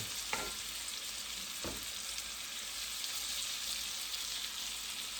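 Potatoes and sausage with mushrooms frying in butter and grease in a pan over medium-high heat, a faint continuous sizzle broken by two sharp knocks of a utensil against the pan.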